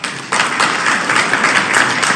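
Applause from an audience at a document signing ceremony in Doha, Qatar, a dense, steady patter of many hands that starts abruptly and continues loudly throughout.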